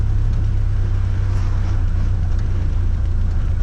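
A 1930 Ford Model A on its first test drive over speed bumps, fresh king pins, front brakes and modern shocks fitted, gives a steady low rumble of engine and road noise, close and continuous with no talking.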